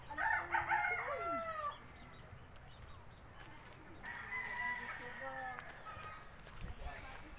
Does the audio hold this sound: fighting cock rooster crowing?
yes